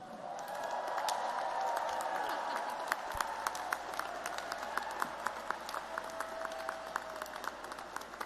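Sustained applause from a large audience at a university engineering commencement ceremony for master's graduates, dense steady clapping throughout with a few sharper individual claps standing out, moderately loud and filling the hall.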